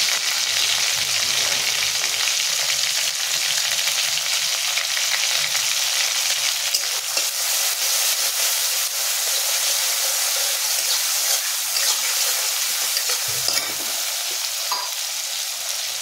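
Green chili paste frying in a pan for a Bengali fish curry, a loud steady sizzle running throughout with occasional spatula scrapes as it is stirred, close up and without talk.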